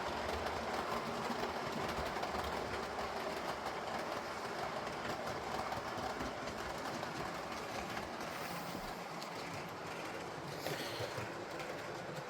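A model railway Class 90 electric locomotive hauling Mark 3 coaches runs steadily past. It makes a soft, continuous whirring hum with faint rhythmic wheel clicking over the rails, low in level and without voices.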